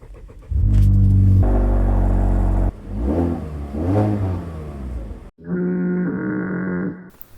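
A stock Mazda 6 with a 2.5 liter four-cylinder engine revs hard and close for a couple of seconds, drops back, surges again in a wavering rev, then settles into a steady idle-like drone.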